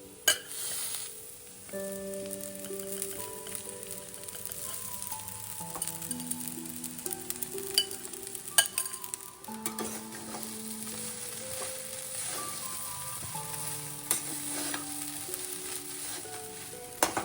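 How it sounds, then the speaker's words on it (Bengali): Soaked flattened rice for poha is stirred in a frying pan with onions, producing soft scraping and light sizzling, with occasional clinks of a spatula against metal and music playing quietly underneath. "এটাকে এবার ভালো করে নাড়িয়ে চাড়িয়ে নিতে হবে"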